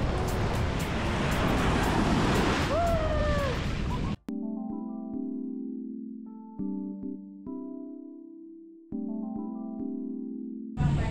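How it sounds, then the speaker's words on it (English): Waves break on a beach in Bali as a steady, rushing wash of surf and wind that lasts about four seconds. The sound then cuts abruptly to unrelated electronic tones. "Waves."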